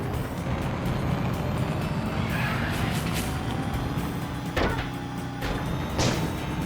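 A car drives in the video game Wobbly Life, a constant loud engine hum with a few short clunks and knocks near the end, no talk.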